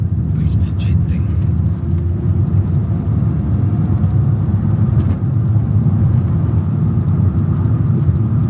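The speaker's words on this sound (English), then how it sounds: "It's got a booster jet engine." Suzuki Swift Sport with its Boosterjet turbo engine driving, heard as a steady loud low engine and road drone from inside the car, with a couple of brief higher voice-like bursts.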